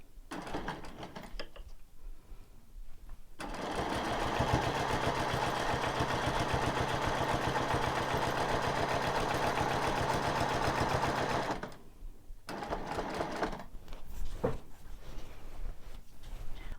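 A sewing machine stitches a quilt with a steady, fast, continuous mechanical whir and rapid needle clatter for several seconds, then stops, followed by quieter handling noises.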